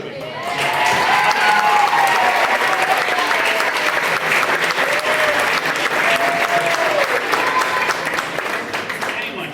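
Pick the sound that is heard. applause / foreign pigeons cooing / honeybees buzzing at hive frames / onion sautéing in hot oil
applause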